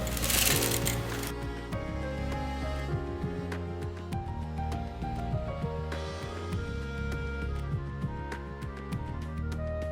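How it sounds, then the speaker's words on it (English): A sewing machine stitching kurta fabric, running in close, quick mechanical bursts of needle clatter with short pauses between seams. "So I'm going to sew that."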